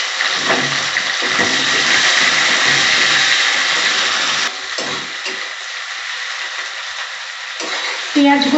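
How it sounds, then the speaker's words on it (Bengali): Onions fry loudly in a pan, a harsh close sizzle with stirring scrapes that drops to a softer, steadier crackle halfway through before a brief burst near the end. "আমি পেঁয়াজগুলো ভাজতে দিলাম।"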